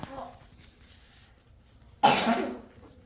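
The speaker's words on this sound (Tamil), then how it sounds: "எல்லாருக்கும் இருமல் தொடர்ந்து மாறி மாறி மாறி எல்லாருக்கும்" A single burst of coughing rings out close by after a few seconds of quiet background murmur.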